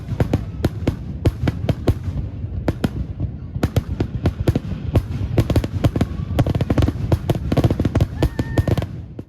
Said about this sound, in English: The show lasted 24 minutes, ending with a spectacular finale.